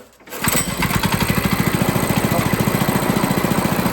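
A small engine on an abandoned go-kart runs at a fast idle, with a steady, loud, rapid pulsing chug that continues without a break after a brief start-up.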